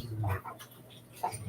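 A dog gives short whimpers and small yips indoors, brief and moderately close, mixed with faint voices in the background.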